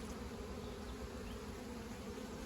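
Worker honeybees buzz in a close, steady drone near a queen cage, continuous and fairly faint, with no voices over it.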